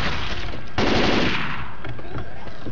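Dense automatic gunfire from the video game Left 4 Dead 2 rattles loudly and continuously through the short span, with a burst of heavier shots near the start.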